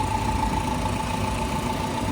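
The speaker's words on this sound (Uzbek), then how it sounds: "Motor ishlab turibdi, yurib turgan holatda." A 2023 Chevrolet Gentra with a manual gearbox, fourth-generation methane (CNG) system, idles steadily at low volume, a continuous rumble with a faint steady hum and no other sounds.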